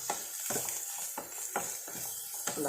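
Bitter gourd frying in oil in a pan with repeated stirring, a steady sizzle punctuated by rhythmic scraping strokes about every half second, close up and with no talking.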